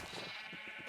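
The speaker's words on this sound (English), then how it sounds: "I'm going to go and say hi to my sheep and just sort of see what they're up to" A sheep bleats in a farming video game, a short wavering cry repeated in quick pulses within about a second, fairly faint and with no speech.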